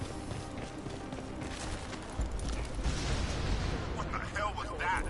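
An explosion at a church in the Crysis 2 video game, heard as a loud, sustained, deep rumbling blast and debris roar mixed with gunfire-like crackle and game effects.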